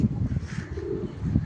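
Low, throaty cooing from Kaira-breed pigeons kept as pets, soft repeated rolling coos close by with faint background noise and no talking.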